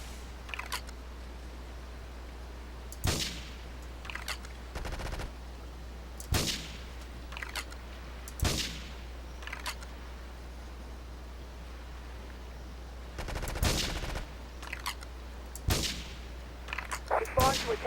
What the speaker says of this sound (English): Investigate reported gunfire and explosions.